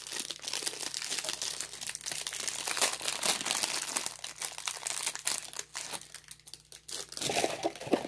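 A plastic bag holding ice cream crinkles and crackles up close in irregular bursts, loud and alone.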